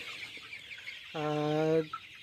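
A chicken being raised for vaccination on a poultry farm gives a single drawn-out, harmonic cluck-call lasting under a second, near and clear over faint background hiss.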